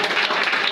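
Congregation applause during a prayer session, a brief dense burst of many hands clapping, loud and close.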